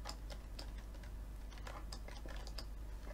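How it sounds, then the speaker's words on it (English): Quick, light keystrokes tap on a computer keyboard in an irregular patter, close and faint over a steady low hum. "I forgot to touch type there."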